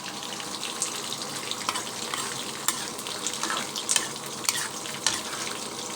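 Chicken frying for sweet and sour chicken gives a steady, dense sizzle with scattered spatters and stirring clicks, close and continuous throughout.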